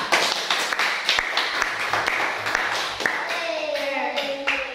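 Quick, uneven hand clapping from a small group of students in a classroom, close by, with a bright whistling tone rising near the end.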